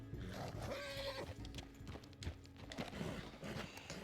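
A horse in the Red Dead Redemption 2 video game whinnies while its hooves clip-clop steadily underneath, set against busy background game sound at a moderate distance.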